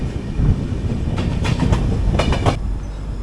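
The Ernakulam–Tatanagar Express runs at about 110 km/h, heard from inside an AC three-tier coach: a constant loud rumble with clustered clickety-clack beats from the wheels crossing rail joints.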